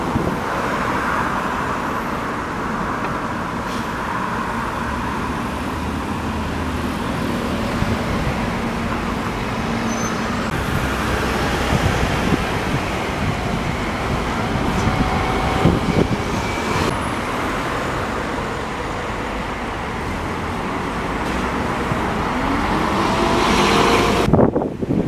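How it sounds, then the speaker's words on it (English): Road traffic and a passing tram on a Nottingham street make a steady, fairly loud rumble with engine and tyre noise throughout, swelling slightly near the end. "Tram."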